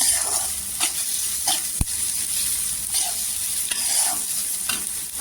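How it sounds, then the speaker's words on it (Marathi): Onion sautéing in hot oil with salt, a steady bright sizzle and hiss running throughout with light stirring scrapes at intervals and one sharp tap near the middle, no voices. "छान असं तेलावर परतून घ्यायचं."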